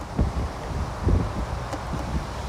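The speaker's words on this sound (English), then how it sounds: "It was windy, so I'm trying to stay out of the wind here." Gusty wind buffeting the microphone outdoors, a steady rumbling roar with a few stronger low thumps.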